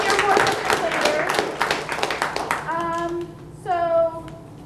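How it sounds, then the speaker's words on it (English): A library poetry open mic audience claps for a performer in a dense burst of applause lasting a couple of seconds, then fades as a voice begins speaking over the last scattered claps. "So give him a round of applause again."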